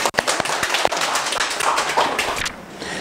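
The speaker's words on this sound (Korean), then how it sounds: "자, 박수 한번 해주세요." A lecture audience claps in a loose, scattered patter of individual hand claps, fairly close, tapering off toward the end.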